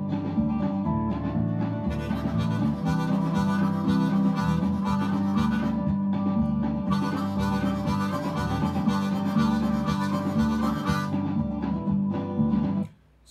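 Harmonica in C playing a chugging train rhythm in country blues style, steady rhythmic chords with breathy pulses, close and loud, continuing alone before stopping abruptly at the end.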